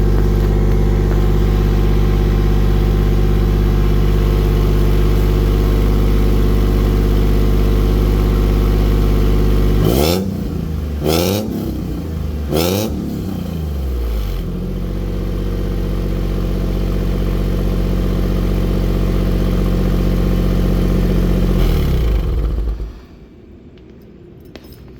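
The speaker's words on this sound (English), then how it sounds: "Muffler's just right there. See if we can give you guys a little quick rev." A 1989 Toyota pickup prerunner engine idles steadily near the muffler, then gives three quick revs about midway before settling back to idle and cutting off near the end, with no talking.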